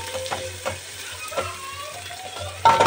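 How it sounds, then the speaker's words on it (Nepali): Tomatoes dropped into browned onions frying in a pan for biryani give a steady close sizzle, with scattered stirring scrapes and a louder burst of hissing near the end. "अब इसमें पड़ेगा टमाटर"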